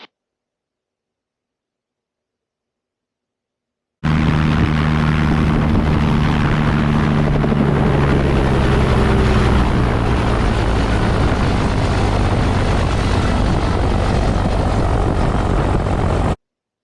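A helicopter's rotor and engine drone comes in abruptly after several seconds of silence during an autorotation landing, then holds steady, loud and close, to the end.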